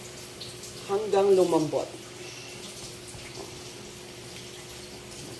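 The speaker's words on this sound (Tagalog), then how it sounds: "Magdagdag tayo ng water." Water pours from a container into a pot of simmering chicken gizzards, a short gurgling splash of about a second that fades under steady kitchen background hiss; someone speaks briefly.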